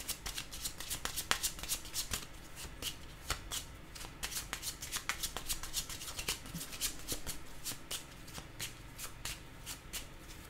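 A deck of cards shuffled by hand for a card reading, rapid crisp riffles and flicks in quick repeated bursts, close and clear throughout with no voice over it.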